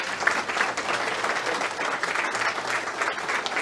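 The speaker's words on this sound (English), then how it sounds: "I'd like to give Nathan a big round of applause and a President's Award" Banquet audience at a national awards show in Gettysburg, Pennsylvania breaks into sustained, even applause from many hands, filling the room at a steady level.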